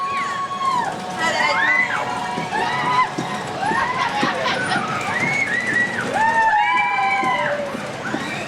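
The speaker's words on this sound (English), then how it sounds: "As you noticed, all the screaming and all, it's fun watching these kids get excited." Kids screaming on an amusement park ride at Adventureland Park, overlapping shrill rising-and-falling screams in repeated waves over a busy crowd background.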